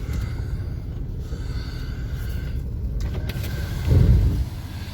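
A Chevy S10 Blazer sits idling with a steady motor hum while its electric power window motors whir, followed by a brief louder low engine surge near the end.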